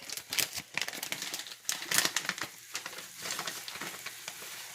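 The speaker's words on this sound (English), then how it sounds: "I'm going to open another pack." A plastic pack of cheese crinkles and tears open at close range, sharp rustling bursts over a faint sizzle from a pot of grits cooking nearby.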